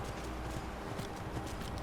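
Horse hooves cantering in a modded Skyrim roleplay, a steady rhythmic clip-clop of hoofbeats close by, fairly quiet under ambient outdoor game sound.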